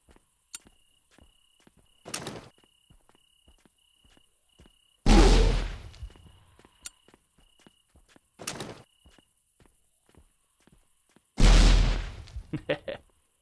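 Grenade blasts in the zombie game Zompiercer, two loud booming explosions several seconds apart, each followed by a short crackling tail, with scattered sharp clicks and thuds between them.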